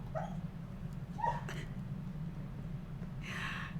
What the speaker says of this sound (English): it's so cute when she barks in her sleep